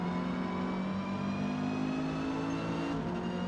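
Renault 8 Gordini engine in Forza Motorsport, D class at the Catalunya circuit, droning steadily as the throttle comes on, a continuous mid-pitched engine tone that holds fairly constant over a few seconds with no voices.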